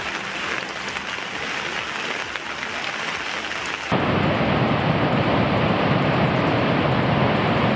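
Heavy monsoon rain pours down in Karnataka during a thunderstorm, a loud continuous roar that abruptly thickens partway through into an even denser downpour, with deep thunder rumbling underneath.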